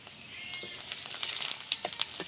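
Whole garam masala, cumin and dried chillies sizzle in hot oil after fish has been fried, a steady close frying hiss broken by scattered sharp pops and crackles.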